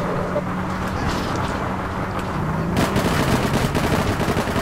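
Gunfire in APB Reloaded rattles in rapid, dense bursts over a low engine-like drone, loud and continuous, growing busier partway through.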